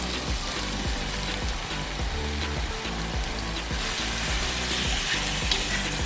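Beef sizzles steadily after being added to a pan of cooked tomatoes for a stew, a loud, continuous close-up frying hiss with faint stirring scrapes throughout.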